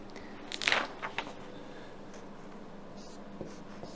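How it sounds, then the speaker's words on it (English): Pen scratching on paper as something is written down by hand, a short burst of scribbling near the start followed by a few faint strokes in a quiet room. "So first let me write it down."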